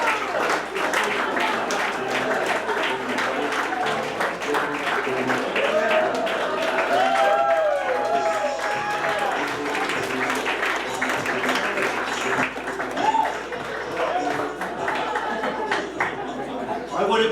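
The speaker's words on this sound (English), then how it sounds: "What a great crowd we had here tonight. I mean, that was such a nice applause" A live audience claps and cheers in a steady, full burst of applause to welcome a Donald Trump impersonator on stage, with chatter and a few shouted voices mixed into the ovation.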